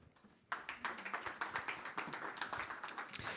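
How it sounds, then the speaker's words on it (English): An audience at a business and security panel claps for a panelist, steady brisk applause that starts abruptly and continues evenly for about three seconds. "Give her a round of applause"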